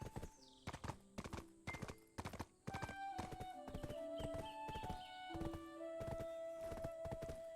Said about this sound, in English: Now we go on our new horse